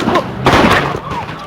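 Gunfire breaks out at a Ferguson protest, loud booming cracks about a second apart against a dense, rough background.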